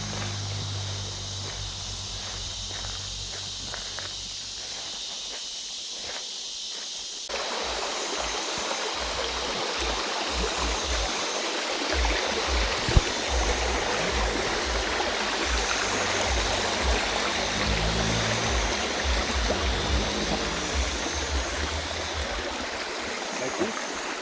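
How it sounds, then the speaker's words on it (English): A river stream flows and rushes steadily during a crossing in Sulawesi, a constant close water wash that grows louder partway through, with faint footsteps and rustling beneath. "So we cross the river"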